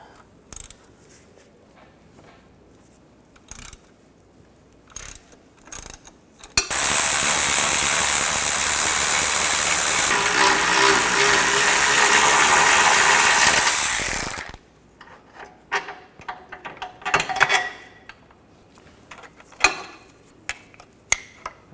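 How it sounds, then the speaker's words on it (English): Ratchet wrench with a 16mm socket loosening bolts on a 2007-2013 Mini Cooper during exhaust manifold work: a loud, continuous fast clicking ratchet run lasting about eight seconds, framed by scattered metallic clinks and tool handling. "Using a 16mm socket, take these two bolts out."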